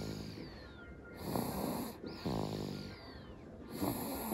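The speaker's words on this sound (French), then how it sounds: "Elle ronfle." A small girl snores while asleep, soft and close, with several slow rhythmic breaths, each one a rough rasping inhale followed by a quieter exhale.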